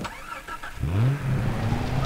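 A car engine in the Far Cry 3 video game turns over and settles into a steady idle, loud and close, with no talking over it.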